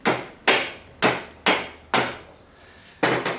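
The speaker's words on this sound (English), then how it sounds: "I'll just get the hammer and I'll tap this bearing in here on this side" Six sharp metal hammer taps driving a bearing into place during a Sigma assembly, evenly spaced about half a second apart with a short pause before the last, close and alone.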